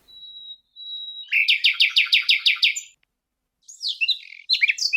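Birdsong: a thin steady whistle, then a rapid series of about eight bright, repeated chirped notes, a pause, and a few more varied warbling phrases, clear and close with no voices.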